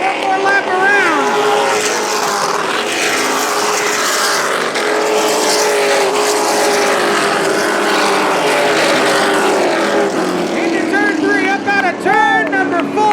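A race car roars past on a Central Texas speedway track coming out of turn four, a loud sustained engine whine with pitch sweeps as it passes, under continuous excited commentary.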